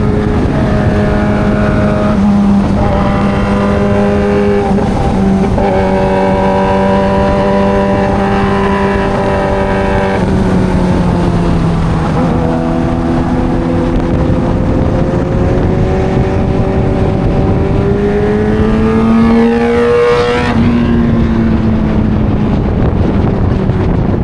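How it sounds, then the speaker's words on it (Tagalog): A car with a loud full dual exhaust revs nearby over steady wind noise, its engine note climbing and falling in long sweeps while the throttle is worked, with no talking. "Ganyan yung gusto kong tambucho eh."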